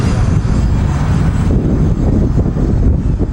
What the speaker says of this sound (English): Upgraded with Vance and Hines slip-on mufflers, has a real nice sound